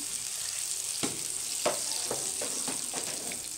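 Browned cumin tempering poured into Indian kadhi, giving a steady faint sizzle with a few soft clinks and splashes scattered across it.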